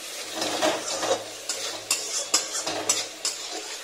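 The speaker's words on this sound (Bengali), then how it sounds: "তো মাছের ঝোল বসাবো, তারই মশলা কষে নিচ্ছি।" Spice paste for a fish curry stir-fried in a pan, a continuous sizzle with rhythmic scraping and tapping strokes of a spoon against the metal, and no voices.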